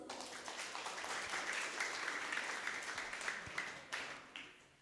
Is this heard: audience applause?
yes